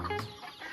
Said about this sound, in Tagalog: Yan, may mga alaga tayong ano dito. Mga manok saka pato.